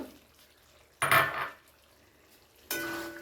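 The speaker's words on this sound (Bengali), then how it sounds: "এবারে দিয়ে দিচ্ছি চিংড়ি মাছটা ম্যারিনেশন করে যে রাখা ছিল।" Marinated shrimp dropped into a hot pan of cooked chicken for Bengali-style fried rice, two bursts of sizzling and utensil clatter separated by a quiet pause.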